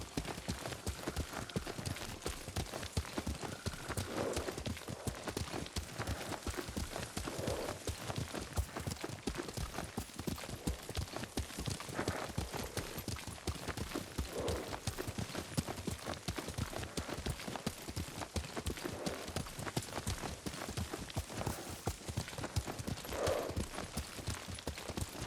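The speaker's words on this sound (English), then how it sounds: "Lord Sakai taught me to ride a horse." Horse hooves clip-clop steadily while riding in the video game Ghost of Tsushima, a continuous even rhythm of hoofbeats running for the whole stretch at moderate volume.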